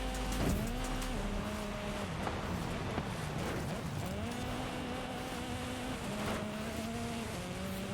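A Porsche engine in the Forza racing game, revving and droning steadily with rising and falling pitch as gears shift, loud and continuous throughout.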